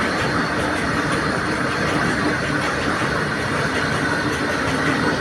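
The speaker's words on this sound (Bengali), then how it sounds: "সেই মালগাড়ি একটা ট্রেন চলে এলো" A freight train passes steadily nearby, a continuous broad rumble and rattle of wagons that holds at an even level throughout, with no voices.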